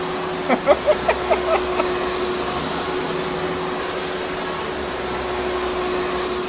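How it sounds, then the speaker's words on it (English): A vacuum cleaner runs with a steady, loud whine and hum during an in-game stream, with a few short clicks or thumps near the start before the drone continues alone. "Turn the vacuum cleaner on."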